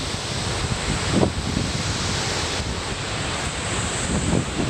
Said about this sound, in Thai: น้ำตกสวยๆ ในนอร์เวย์ค่ะเพื่อน ๆ